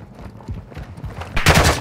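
Gunfire in Call of Duty Modern Warfare 2 (2022), a short run of rapid, muffled shots at middle distance that ends in a louder, sharper burst.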